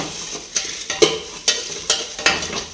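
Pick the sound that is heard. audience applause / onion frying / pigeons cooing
onion frying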